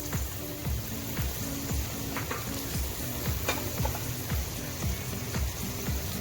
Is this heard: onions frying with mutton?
yes